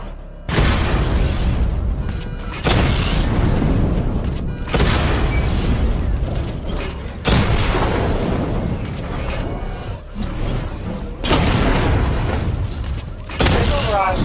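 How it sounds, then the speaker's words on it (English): Missile barrage explosions from the video game Batman: Arkham Knight, a series of loud booming blasts in roughly four heavy bursts with dense rumbling tails, one after another and close up, with no talk over them. "Charge the missile barrage to level 2 to destroy up to 4 targets at once."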